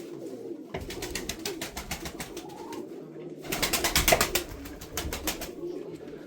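Rapid fluttering wingbeats in two bursts, with soft pigeon coos mixed in nearby, like pigeons taking flight and landing close by in a cellar in Mardin.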